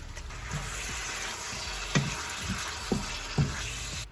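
Beef stir-fries in hot oil in a pan with celery, a steady loud sizzle broken by a few sharp spatula clacks and scrapes against the pan near the end.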